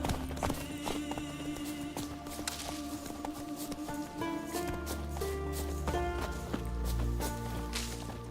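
Roach, a horse in The Witcher video game, gallops with quick, rhythmic hoofbeats close by, mixed with a whinny and game music.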